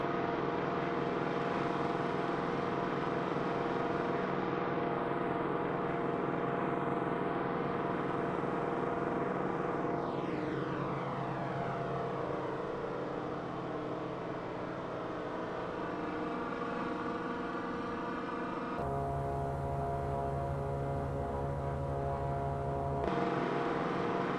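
Droning piston engines of a B-17 bomber in a flight simulator roar steadily and loudly during a landing approach with flaps down, the pitch dipping and sweeping midway before an abrupt shift in tone near the end.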